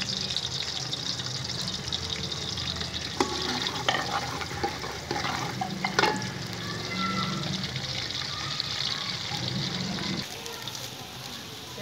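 Onions browning in a pan for a Pakistani-Indian village-style chicken pulao, with a steady broad frying hiss and scattered scraping stirs throughout, fairly close and moderately loud, with no talking.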